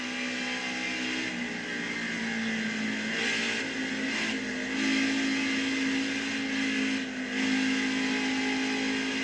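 A NASCAR truck engine in the racing video game NASCAR Heat 5 drones at a sustained high pitch, loud and steady, with slight swells as the engine note shifts through turns, and nobody speaks.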